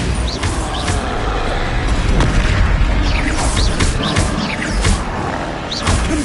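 Bombarda explosion spell cast in the video game Hogwarts Legacy, loud booming blasts and bursts stacked amid a busy combat mix of other spells, with repeated impacts throughout.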